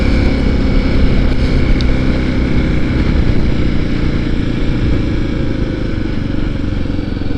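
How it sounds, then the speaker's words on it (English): A Kawasaki KLX 300 motorcycle on a cold morning ride, its engine droning loud and steady at close range along with road and wind noise, with no talk. "I'm on my Kawasaki this morning, KLX"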